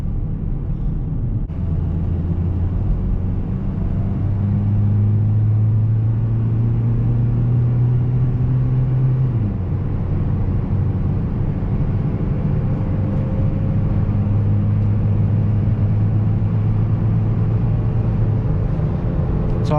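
A 2000 Toyota Corolla CE cruising at 60 mph, heard from inside the cabin as a steady low engine and road rumble with a droning tone that shifts slightly midway, continuous and fairly loud throughout.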